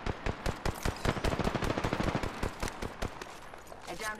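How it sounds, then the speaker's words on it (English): Rapid automatic gunfire from the video game Apex Legends, a dense burst of sharp, loud shots in quick succession that thin out toward the end, with some faint game voice under the shots. "Getting shot at."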